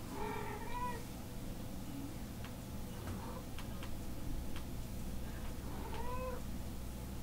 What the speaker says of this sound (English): My cat's meowing at me.